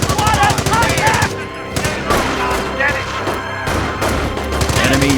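Rifle squad gunfire in Company of Heroes: rapid machine-gun rattles and scattered rifle shots crackle continuously, with thuds mixed in and voices calling out over the firefight.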